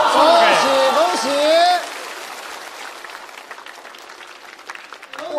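A studio audience at a comedy roast show bursts into applause that continues as a steady patter after a loud voice speaks over the opening seconds.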